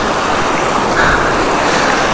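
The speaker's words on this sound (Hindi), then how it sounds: "क्या बेहतरीन नदी है" Steady broadband rush of river water in a high mountain valley, continuous and fairly loud, with a windy hiss mixed in and no voices.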